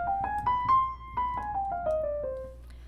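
Single tones, each held briefly, step through a harmonic minor scale, rising and then falling. The notes are clean and fairly quiet, with a faint background hum and no talking.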